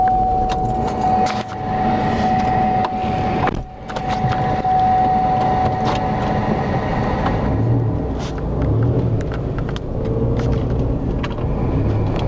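A car descends a steep hill on dry pavement with the brakes ridden all the way down, giving a steady road rumble and interior drone with a brief dip and some light rattles, close and continuous.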